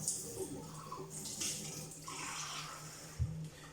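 Small amounts of water pour from a tap into a marzipan mixture for Dominostein, a soft, faint running trickle with a brief splash near the end.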